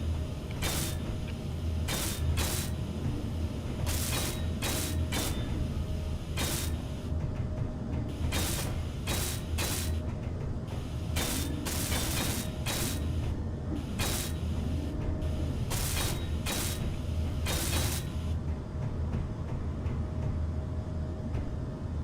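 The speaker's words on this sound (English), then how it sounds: "Let's weld some of that up so we can see what it looks like." Mechanical welding in the video game Space Engineers, used on blocks of a mech build: a loud, steady ratcheting, grinding drone that runs throughout, broken by repeated bursts of sharper clatter, with no talk.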